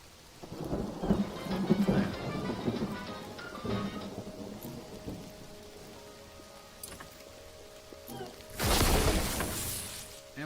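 Rain falls steadily in Mind Over Magic as rumbling thunder builds, then a sharp, loud lightning crack bursts out near the end before the storm settles back into rain.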